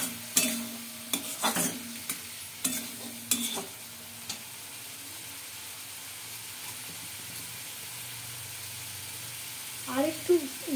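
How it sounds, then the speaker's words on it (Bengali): Spices cooked down with cumin-coriander powder while frying fish: sharp stirring scrapes of a utensil against the pan come in bursts over a soft steady sizzle, with a few quieter pauses and a brief voice near the end. "এই মশলাটাকে একটু ভালো মতো কষিয়ে নিচ্ছি।"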